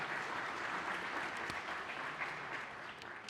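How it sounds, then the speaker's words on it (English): Audience at a county kickoff celebration applauds in a steady, even wash of clapping that holds throughout, moderately distant with a few sharper claps standing out. "Let's give them a thank you for being here and a round of applause."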